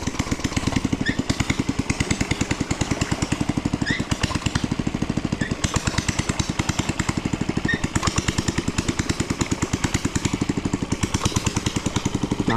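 A hand tractor engine chugs steadily at close range in a rice paddy, its fast even pulses running without a break, with faint knocks and splashes over the top.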